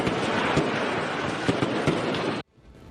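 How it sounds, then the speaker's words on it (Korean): Firecrackers burst at a burning street stall selling fireworks during Chinese New Year, a dense crackling barrage with several sharper pops, which cuts off abruptly near the end. "건물에서 연기가 피어오르고 불꽃놀이를 하는 것처럼 폭발음이 이어집니다"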